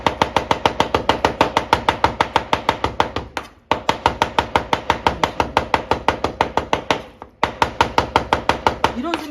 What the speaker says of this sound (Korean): 그래서 여러분들이 고기를 다져주시면 거죠.